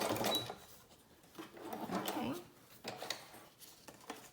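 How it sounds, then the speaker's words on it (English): A sewing machine stitches through a paper strip in quiet bursts of fast mechanical whirring and clicking, starting and stopping. "I'm going to just stitch through that this way"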